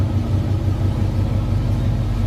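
An old V8 muscle car engine rumbles loud and close, a deep, steady, throbbing low-end growl that holds without a break, with no voices over it.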